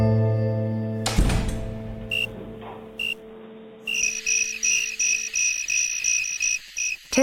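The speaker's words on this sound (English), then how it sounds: "I would sit there for 3 hours waiting for the damn crickets to chirp" Crickets chirp in short, high, evenly repeated pulses: a couple of isolated chirps first, then a steady rapid series near the end, after a low tonal hum and a sharp clatter early on.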